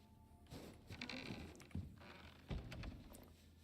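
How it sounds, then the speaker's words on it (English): Lucy, a sheep in the survival game Icarus, gives a couple of close bleats mixed with soft thuds and game ambience, with no talking. "We've got Lucy the sheep down here."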